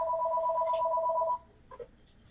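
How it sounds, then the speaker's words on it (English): A house phone rings with a steady electronic two-tone trill for about a second and a half, then stops, leaving quiet room noise and a faint clunk. "I hope he answers the phone on the podcast."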